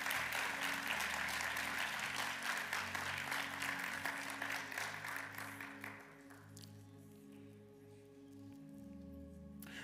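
A church congregation claps in praise during a sermon, a dense burst of applause over sustained keyboard or organ chords that thins out after about six seconds, leaving the music alone.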